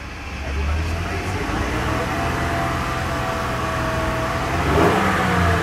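A Honda car engine revs steadily at close range, apparently in cold weather, with a throaty mid-range drone and a brief rise in pitch near the end.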